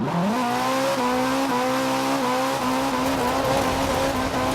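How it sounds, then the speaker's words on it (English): Maserati engine in the racing video game Forza Horizon 4, a steady droning rev that climbs in pitch and then holds a sustained, buzzy tone, loud and close with no voices over it. "Now, obviously, this Maserati sounds dreadful."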